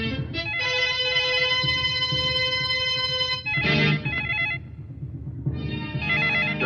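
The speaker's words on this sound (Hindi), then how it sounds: "डरने की कोई बात नहीं, उठाओ फोन।" A telephone rings in a 1997 Bollywood thriller, giving a bright, electronic warbling tone in long bursts separated by short gaps. Soft background music and effects sit underneath, and no voices are heard.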